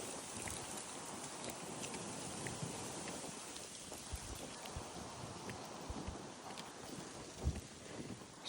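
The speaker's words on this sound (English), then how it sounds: "Oop, some sprinkles. It's sprinkling." Light rain sprinkles down steadily during an Arizona dust storm, a soft continuous patter of scattered drops with some gusty wind noise across the microphone, and no one speaking.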